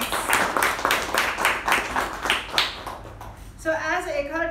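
Audience applause at a Toastmasters-style club meeting, a few seconds of dense clapping that fades out before a voice begins speaking.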